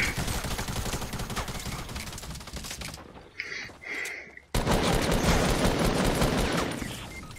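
Fortnite game shotgun blasts in a dense battle, loud bursts of gunfire filling the first three seconds, a brief quieter gap with scattered sounds, then heavy continuous firing resuming to the end.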